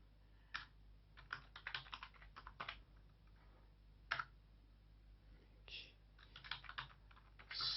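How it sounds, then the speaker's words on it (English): Keys on a computer keyboard clatter in irregular quick bursts of typing during spreadsheet data entry, close and fairly quiet, with short pauses between runs. "by typing on the keyboard, we are typing and entering the data"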